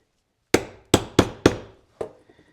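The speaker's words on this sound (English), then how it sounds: "I just bring my square on here and I square my chisel against it." A leather punching chisel struck with a mallet, five sharp close knocks, the first four in a steady quick rhythm and the last after a short pause, each with a brief ringing decay and nothing else around.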